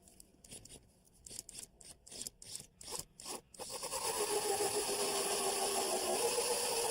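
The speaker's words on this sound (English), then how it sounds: "I'm going to use a 4 1/4 inch hole saw." A saw cuts in rhythmic rasping strokes, then a power drill whines steadily as a 4 1/4 inch hole saw bores continuously through wood, close and moderately loud.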